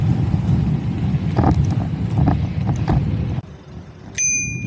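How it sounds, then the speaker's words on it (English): Wind and road rumble from a riding NIU KQi3 Pro electric scooter give way to a single bright, ringing strike of its bell near the end, the clear metallic tone lingering and decaying. "The bell on this scooter is awesome."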